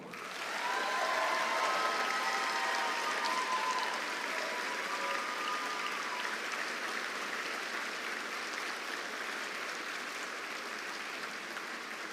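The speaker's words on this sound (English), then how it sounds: "accepting applause for the class of 2024" Sustained applause from a high school commencement crowd for the graduating class of 2024 and its valedictorian, a broad even roar of many clapping hands, fairly distant and quiet, with faint tonal sounds early on.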